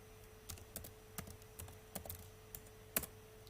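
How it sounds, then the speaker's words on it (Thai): Typing the ipconfig command on a computer keyboard: a quiet, irregular run of light key clicks with a louder final keystroke, heard alone over a faint steady hum. "ต่อไปให้พิมพ์คำสั่ง ipconfig ค่ะ"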